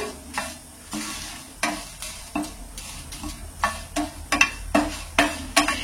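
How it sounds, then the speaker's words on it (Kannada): Pepper fries in a pan for temple-style tomato rasam, stirred in a steady rhythm: repeated close scraping strokes over a continuous crackling sizzle. "ನಾನಿಲ್ಲಿ ಪ್ಯಾನಿಗೆ ಮೆಣಸನ್ನು ಹಾಕ್ತಾ ಇದ್ದೀನಿ. ಅದನ್ನು ಸ್ವಲ್ಪ ಚೆನ್ನಾಗಿ ಫ್ರೈ ಚೆನ್ನಾಗಿ ಫ್ರೈ ಮಾಡಬೇಕಾಗುತ್ತೆ"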